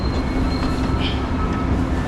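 Train at a Berlin station platform rumbles steadily with low rolling noise and a faint high wheel squeal, loud and close, no talking.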